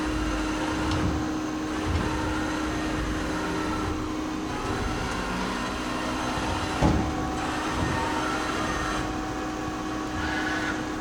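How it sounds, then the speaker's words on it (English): Z-axis ball screws running on a Daewoo Puma 300LC CNC lathe turning center, a steady mechanical hum with a constant tone, rising and easing in slow cycles a few seconds apart, with one brief clunk. "Now we're gonna listen to the ball screws."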